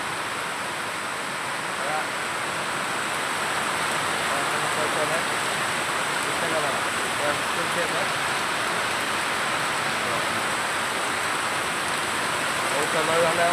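Heavy rain pours steadily at 7 a.m. over the Sina river catchment, a dense, even hiss of water falling on surfaces that continues without a break, with faint voices under it.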